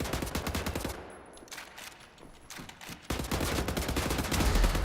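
Dual assault rifles fire in the shooter game Wolfenstein: The New Order, with dense rapid automatic bursts, a brief lull with scattered shots, then loud sustained fire resuming.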